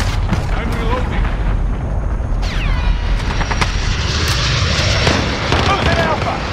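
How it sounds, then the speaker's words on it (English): A cruise missile strike in Call of Duty: Modern Warfare multiplayer booms under continuous gunfire and battlefield rumble, with a descending whistle followed by a heavy blast and scattered shots, all loud and close. "Enemy cruise missile incoming."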